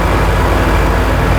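A GAZ-69 driven at slow speed gives a steady, close, low engine rumble with a broad, even roar throughout and no voices.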